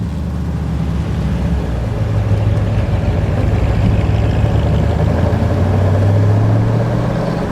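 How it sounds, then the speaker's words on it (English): A 1937 Ford Model 78 coupe's flathead V8 runs at a steady, even idle, its low rumble continuous and close throughout with no talking. "that Flathead V8, let me tell you, Ford did it right. It's got a great sound."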